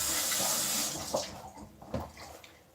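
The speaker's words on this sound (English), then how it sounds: "let me maybe rinse it off a little bit." An object is rinsed under a running tap, with a rushing stream of water that tapers off into a few splashes and drips as it is moved about.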